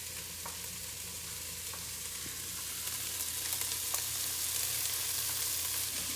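Onion going into a hot pan with bacon for Canadian cheddar cheese soup, giving a steady, moderately loud sizzle and crackle that holds throughout with faint scattered clicks and no talking.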